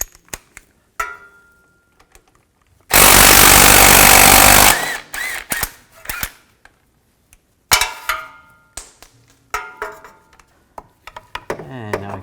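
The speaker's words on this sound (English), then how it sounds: "I'm gonna take the lower bolts out of the front part, right here, and I'm gonna use a 14mm socket to do that" 14mm socket loosening the lower front driveshaft bolts on a 2008-2020 Nissan Rogue, a long loud burst of impact-wrench rattle followed by scattered metallic clicks and clanks of the socket and bolts.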